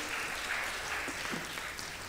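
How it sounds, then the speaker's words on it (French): Audience applause for three panel speakers at a French conference on innovative medicines and access to care, a steady broadband patter of many hands clapping, moderately loud and continuous throughout. "On peut également vous applaudir."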